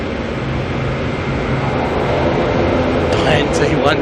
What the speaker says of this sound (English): I've got an A320 Neo here going out as